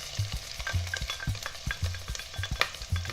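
Onions sauté in hot oil for ginisang upo, with a steady sizzle and a spoon rhythmically scraping and stirring the pan up close.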